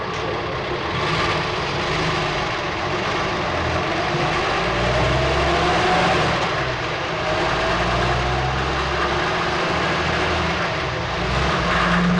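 A petrol car engine runs steadily with a rough, uneven knocking rattle of pinking from premature ignition over its low drone, continuous and fairly loud throughout.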